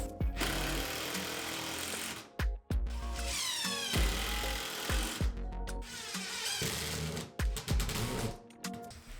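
A power drill driving pocket hole screws into pantry shelf supports, with several bursts of whirring and rising motor pitch, broken by short pauses, loud and close with no talk.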